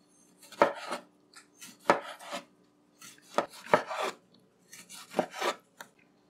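Knife chopping half a tomato for baigan choka on a cutting board, a series of close, crisp thuds in irregular bursts of two or three strokes with short pauses between.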